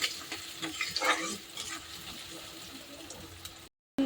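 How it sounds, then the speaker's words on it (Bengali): Chopped onion frying in hot oil with black cumin seeds in a pan, a soft, steady crackle with faint stirring scrapes, fairly quiet and close, ending in a brief silence. "পেঁয়াজটা ভাজা ভাজা হয়ে গেছে, এখন রসুনটা দিয়ে দেবো"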